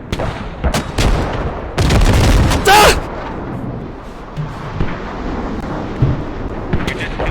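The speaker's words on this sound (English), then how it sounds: "A10 strike has been launched from AK" Heavy explosions from an A-10 airstrike in the military shooter Squad, a cluster of loud booming blasts followed by rumbling debris, mixed with voices talking over the action.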